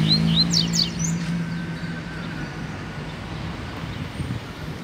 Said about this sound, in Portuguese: começa a piar fiote que nem um louco quando vê outro coleiro solto.